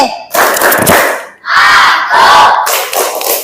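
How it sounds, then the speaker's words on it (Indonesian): A class of schoolchildren loudly chants the tepuk konsentrasi clapping routine together in a classroom, in bursts of group shouting with clapped beats and short pauses between phrases. "Tepuk konsentrasi."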